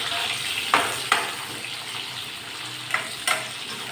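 Chopped small onions and tomatoes fry in a pan with a steady, moderate sizzle, broken by a few sharp scraping stirs near the start and again toward the end.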